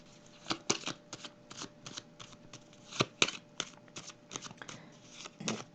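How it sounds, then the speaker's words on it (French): Tarot cards are drawn and shuffled from a deck in a series of quick, papery flicks and snaps, close and fairly quiet, with no voices. "Je vais piger une petite carte ici."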